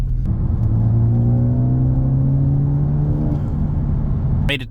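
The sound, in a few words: 2013 Ford Focus ST car accelerating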